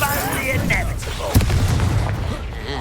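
Confringo fire-blast spells exploding in Hogwarts Legacy combat, a dense rumbling boom with a sharp impact midway, surrounded by battle noise and overlapping voices.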